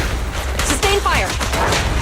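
Gunfire in the video game Zenless Zone Zero, a short burst of shots and booms under a voice giving commands, with mechanical game effects around it.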